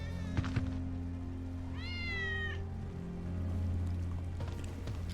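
Game cat in Final Fantasy 7 Remake giving one clear, drawn-out meow, with a low game ambience hum and a couple of soft thuds around it.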